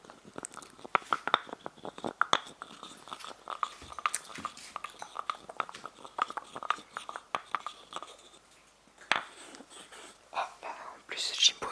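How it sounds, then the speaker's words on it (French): A dog eats dry kibble nearby, with soft repeated crunching and chewing clicks in an irregular rhythm, faint and close, under quiet whispering in a calm indoor setting. "on l'entend en train de manger ses croquettes"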